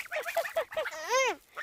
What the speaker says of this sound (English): Ayan, nagpapakain ng mga geese